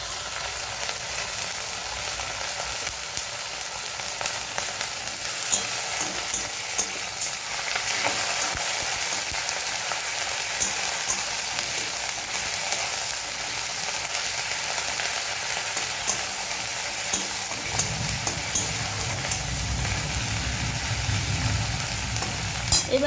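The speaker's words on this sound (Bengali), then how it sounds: "এবারে আমি আদা রসুন বাটাটা দিয়ে দেব" Ginger garlic paste frying with onions in a pan, a steady close sizzle with stirring scrapes, and a low rumble entering near the end.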